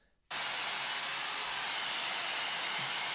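A blow dryer fitted with a 2.36 inch oval styling brush switches on abruptly and then runs as a loud, steady, close rushing hiss of air.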